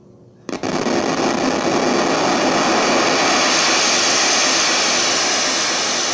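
Noise from an SN-Exerciser synthesizer bursts in with a click and holds as a loud, steady, dense roar, its low pass filter turned down.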